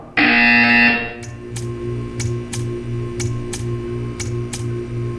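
A loud, flat electronic buzzer blares for about a second in the Portal 2 test chamber, then cuts off, leaving a low mechanical hum with a regular series of soft ticks continuing underneath.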